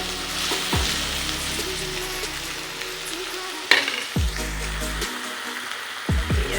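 Oil sizzles and fries steadily in a pan while curry is prepared before mutton goes in, with a continuous crackling hiss broken by a few soft knocks and stirring clatters.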